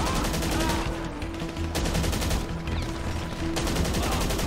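Gunfire in GTA Online, a sustained barrage of rapid, evenly spaced shots hammering continuously at close range with a steady low engine-like hum beneath.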